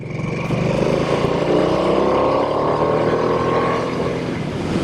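Harley-Davidson Nightster motorcycle engine heard while riding, a loud, steady, rumbling drone with a slowly rising pitch as it pulls along, wind noise mixed in and no talking.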